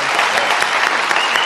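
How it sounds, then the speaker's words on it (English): Studio audience on a late-night television talk show applauds the house band, steady dense clapping filling the whole short stretch at close, loud level with no speech over it. "you can applaud for our band."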